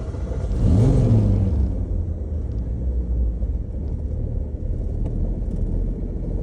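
A 1962 Ford Ranchero engine cranks and fires with a brief rising roar, then settles into a low, steady, rumbling idle close by.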